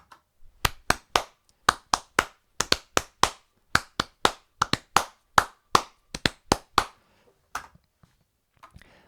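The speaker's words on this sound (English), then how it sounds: "So I'm just going to go ahead and record some random kind of clapping now." Hands clap in a loose, irregular pattern, some claps close together and others spaced apart, about thirty sharp claps heard alone in a quiet room.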